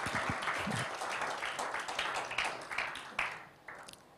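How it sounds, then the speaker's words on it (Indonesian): A church congregation claps during a Sunday worship service, a fairly dense but uneven round of applause that thins out and fades toward the end. "Oh, tepuk tangan aja, jangan tanggung-tanggung."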